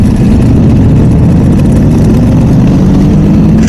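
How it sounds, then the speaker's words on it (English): Ducati Desmosedici motorcycle engine with a GP7 exhaust, heard close and loud as a continuous deep, rough rumble that holds steady throughout, with no talk. "hear that GP7 exhaust. That engine and that exhaust is absolutely insane on the bike."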